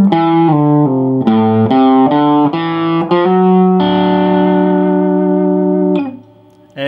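Distorted electric guitar plays a slow blues rock lick over a four chord, a string of separate sustained notes and bends that ends on a long held tone, close and loud with no talking.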